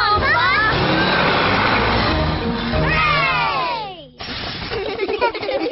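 Cartoon bus engine straining up a steep mountain road, a steady loud drone under children's voices and music, with a rising whine, then a brief drop to near silence before busy sound resumes.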